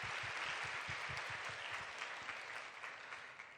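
A church congregation at a Tuesday evening Holy Spirit worship service applauds the worship team, a full burst of clapping that stays steady, then eases off slightly at the end.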